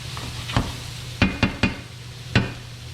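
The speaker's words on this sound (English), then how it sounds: "you want to saute it up a little bit brown it, not brown it too much" Grains sauté in oil in a pan for a vegan dinner, a soft steady sizzle broken by several sharp utensil knocks against the pan, close and without speech.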